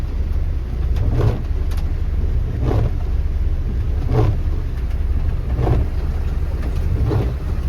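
Cars pushing through deep flood water on a road in Virar during heavy rain, a steady low engine rumble under repeated swelling washes of water every second or so, close by and fairly loud, with no talking.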